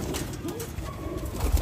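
Pigeons coo softly on a rooftop, low murmuring calls under a steady background hum, with faint rustling near the end.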